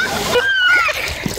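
Several people splash about in water, a quick burst of splashing and sloshing close by while voices chatter and call out over it.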